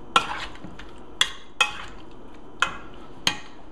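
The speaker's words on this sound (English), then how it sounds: "Mix that all up." Salmon pot pie filling is stirred in a bowl with a utensil, giving five sharp clinks at uneven intervals over quiet background.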